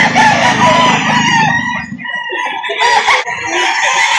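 At a poultry market, a rooster lets out a loud, drawn-out crow close by, followed by chickens clucking and squawking around it.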